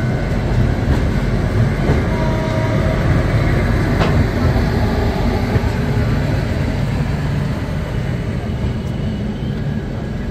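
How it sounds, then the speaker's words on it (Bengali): The Howrah Jodhpur Express pulls out of Pandit Deen Dayal Upadhyaya Junction, a loud, steady rumble of wheels and carriages rolling continuously from close by. "24 মিনিট দাঁড়িয়ে, মানে 4 মিনিট লেটে ট্রেনটি ছেড়ে যাচ্ছে"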